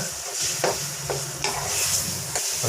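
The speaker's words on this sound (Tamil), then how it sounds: "நெய்யில் வந்து நம்ம பலாப்பழத்தை பாருங்கள் உள்ளே போட்டுக்கங்க பாருங்கள் நல்லா வந்து நெய்யில் வந்து நல்லா வணக்கி விட்டுக்குங்க பலாப்பழத்தை" Jackfruit pieces sautéing in ghee in a pan for a Kerala-style jackfruit payasam, with steady soft sizzling and a few scraping stirs, heard alone and close.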